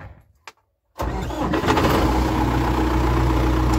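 A tractor engine cranks over and catches after a brief click, then settles straight into a loud, steady close idle with no talk over it.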